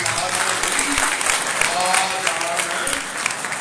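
Applause from a church congregation at a Sunday sermon, a dense steady patter of many hands clapping throughout, fairly loud, with faint voices mixed underneath.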